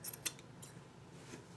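Scissors trimming fabric during sewing: two or three quick, crisp snips close by in a short burst, then a quiet pause, with no talking.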